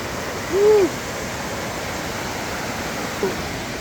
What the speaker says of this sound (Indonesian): Pagi ini kita disambut dengan suara gemuruh air sungai yang begitu deras